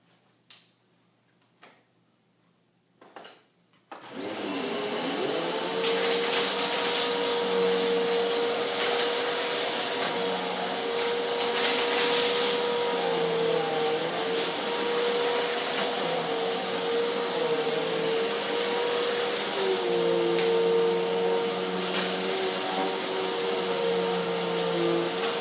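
Hoover Windtunnel T-Series upright vacuum set to high pile running over thick carpet, a few faint clicks, then the motor starts abruptly into a loud steady drone with shifting tones and brushroll ticking, continuing without voices.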